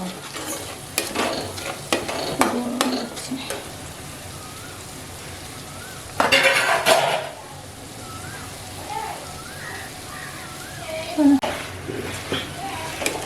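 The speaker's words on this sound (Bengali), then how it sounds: "চালটা দিয়ে এখানে আমি কষিয়ে নেব চালটাকে ভালো করে" Rice stir-frying in a pan for a Bengali fish-head muri ghonto, with scraping stirs and soft sizzling throughout and a louder burst of frying midway, alongside occasional speech.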